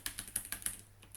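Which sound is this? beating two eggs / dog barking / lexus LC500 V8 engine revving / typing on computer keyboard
typing on computer keyboard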